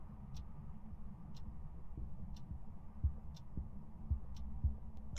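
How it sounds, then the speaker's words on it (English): Heartbeat sound effect in the Phasmophobia ghost-hunting game, soft low thumps pulsing at a steady rhythm beneath a faint hum, with small periodic ticks above. "Heartbeat up the wazoo."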